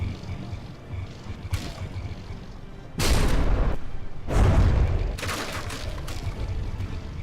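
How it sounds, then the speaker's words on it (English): Frag shells striking ships in the naval combat game From the Depths, producing sharp loud impact booms and crackling bursts in two main clusters, with scattered smaller hits around them. "Yeah, those frag shells from the Protostar."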